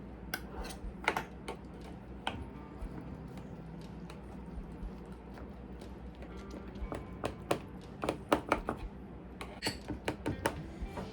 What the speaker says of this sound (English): I'm gonna go ahead and cut his.